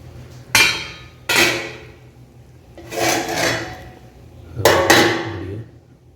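A heavy object is set onto the lid of a pot of Dindigul mutton biryani, giving four loud metallic clunks and scrapes with pauses between them and no speech.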